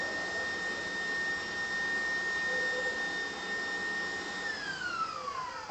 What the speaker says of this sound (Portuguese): A gente está falando aqui a batedeira com barulho.